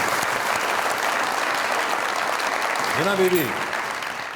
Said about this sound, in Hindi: बहुत सारी तालियां चीमा साहब के लिए।